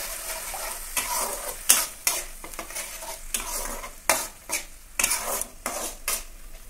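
Spiced water with turmeric and blended paste bubbling in a pan for a pabda fish curry with mustard and poppy seed, a hissing simmer broken by repeated close clattering utensil strokes against the pan, with no voices.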